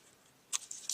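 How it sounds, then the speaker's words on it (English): Scissors snip through card paper at an angle while trimming a handmade sunflower card, giving a few short, crisp cuts close by, starting after a quiet moment and repeating near the end. "you can take your scissors and just trim at an angle"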